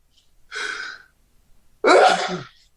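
Two sneezes a second apart, the first a lighter burst and the second louder and fuller, close up with quiet between them.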